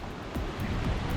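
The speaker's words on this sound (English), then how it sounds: "And the weather's changed. And we have waves." Ocean waves wash and surge under strong wind out on the open Atlantic, a dense, continuous rush with low rumbling swells and gusty noise across the whole short stretch.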